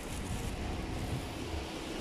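Strong wind roars steadily through a dust storm in Kuwait, a dense, rushing broadband gust with low rumbling buffeting against the microphone, continuous and close throughout without pause.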